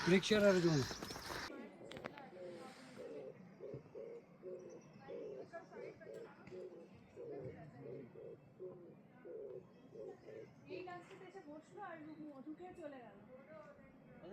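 A bird near Taktsang Monastery, the Tiger's Nest, repeats a deep, heavy cooing call in a steady rhythmic series, fairly faint, with voices nearby at the start.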